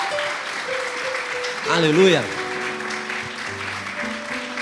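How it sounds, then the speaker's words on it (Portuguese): Congregation applause in a church service, a continuous spread of clapping under and around a man who calls out one word, with a faint sustained tone lingering in the background. "sente-se e aplauda o nome do Senhor Jesus"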